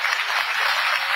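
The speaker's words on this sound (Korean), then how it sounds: "오늘 함께 가장 큰 박수 부탁합니다" Audience applause after a closing speech at a Korean political event, a dense, steady wash of clapping filling the short moment without a break, loud and close.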